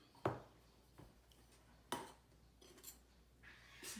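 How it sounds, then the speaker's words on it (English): A metal spoon clinks against a measuring cup while flour is spooned in for blondies, with a few sharp taps and scrapes spaced out and close by in a quiet kitchen. "Just spooning it in, scraping it off the top."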